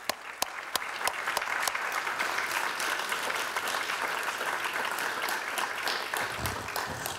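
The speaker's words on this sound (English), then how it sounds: "Please join me in giving Richard a round of applause." Sustained audience applause at an awards ceremony, steady dense clapping from a crowd filling the whole stretch, with a few sharper individual claps standing out near the start.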